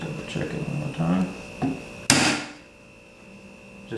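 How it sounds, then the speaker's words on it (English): A single sharp metallic strike of a hammer on a punch marking a steel AK47 rail mount rings out, preceded by some low shuffling and handling noise, then a steady electrical hum lingers afterward. "I'm actually going to use a punch to mark these real quick."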